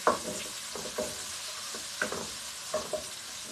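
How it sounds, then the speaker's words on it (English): Vegetables sautéing in a pan for Indian Chinese cooking, a steady close sizzle with a few soft stirring knocks and scrapes spaced through it. "Just saute this."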